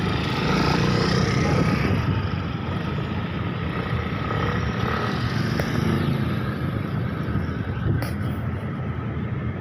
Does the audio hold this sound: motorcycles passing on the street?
yes